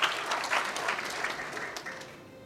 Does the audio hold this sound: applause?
yes